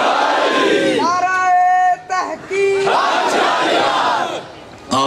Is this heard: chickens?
no